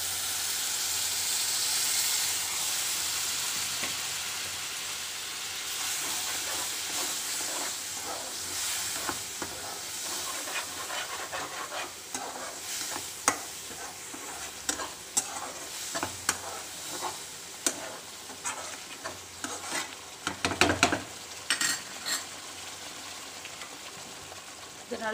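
Tamarind paste frying in a pan for garlic pickle, a steady hiss and sizzle with intermittent stirring scrapes growing sharper and more clustered toward the end, close and fairly loud.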